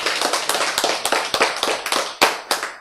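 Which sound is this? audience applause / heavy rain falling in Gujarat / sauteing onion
audience applause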